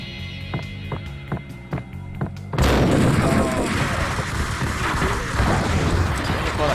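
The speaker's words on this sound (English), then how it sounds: "Oh god, grenade." A grenade explodes in the Max Payne video game, a sudden loud boom that follows a series of sharp gunshots and gives way to a long rumbling, crackling wash of debris and noise.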